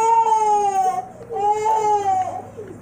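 A small child cries in two long wailing bursts with a brief catch in between, loud and close indoors, sobbing with a strained, rising and falling pitch.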